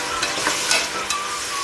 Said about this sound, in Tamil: இதே ஒரு தடவை நல்லா வதக்கிக்கலாம்.